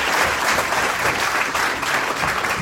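A dense, loud, continuous round of applause fills the hall at a community safety meeting, many hands clapping at once with no single beat standing out.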